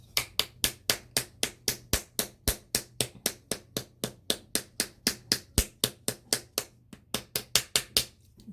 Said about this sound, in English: You could even use your paddle.